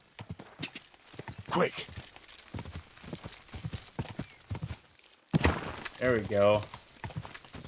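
Horse hooves clip-clop steadily as a horse is ridden in the video game Kingdom Come: Deliverance II, close and rhythmic, with a brief neigh partway through and someone speaking a few words over it.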